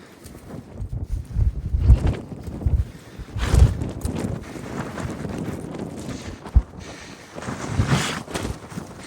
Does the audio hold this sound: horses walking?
yes